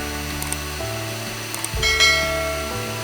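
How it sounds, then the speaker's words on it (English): A stand mixer with a paddle attachment beats butter and sugar together, giving a steady mechanical whir with a rhythmic clank. It runs close and fairly loud, with no voices. "In a stand mixer with a paddle attachment on, beat in 1 cup butter and 2 cups of sugar."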